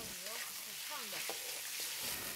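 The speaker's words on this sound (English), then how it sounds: "you're just going to stir fry it till it's done more" Pork stir-frying in hot oil, a steady broadband sizzle running throughout with some faint tonal background sounds and brief clatters of stirring.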